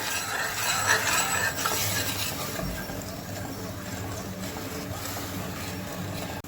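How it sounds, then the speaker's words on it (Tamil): Sweet potato halwa with dissolving sugar is stirred steadily in a pan, making a dense, continuous scraping and bubbling texture up close. A faint hiss runs underneath and no one speaks. "நல்லா கை விடாமல் கிண்டணும்"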